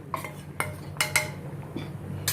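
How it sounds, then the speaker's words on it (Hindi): A spoon stirs tamarind and wheat-flour batter into half-cooked potatoes in a pot, with several sharp metallic clinks and scrapes against the pan at uneven intervals over a low background hum. "इसमें मैं ये डाल के इमीडिएट इसको घुमाने का है, नहीं तो ये गुठलियाँ पड़ जाएगी"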